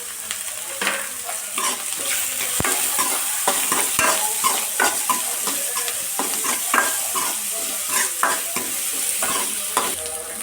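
Onions sizzle steadily in a hot pan for a village-style Karnataka bean dish, with repeated scraping and clinking stirs of a spoon over continuous frying crackle, close and fairly loud.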